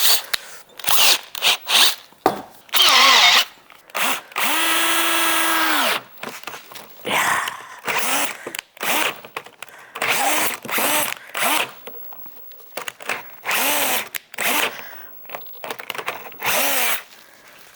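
A brand-new Japanese Star M drill bit bores into jarrah wood in repeated bursts, each a loud, close whir of the drill and grinding bit, separated by short pauses.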